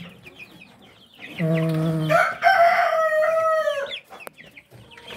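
Month-old Rhode Island Red chicks and chickens clucking and calling close by, with one loud drawn-out crowing call in the middle and softer peeps and clucks before and after.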